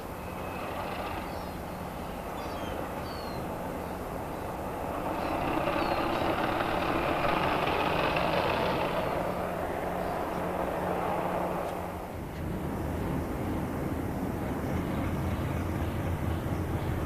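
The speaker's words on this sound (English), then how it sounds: "Departure time, and the Crompton starts its train of tank wagons away" A Class 33 Crompton diesel locomotive pulls a train of tank wagons away, its engine a low, rumbling drone that swells midway, then drops briefly before resuming steadily; a faint voice murmurs beneath it.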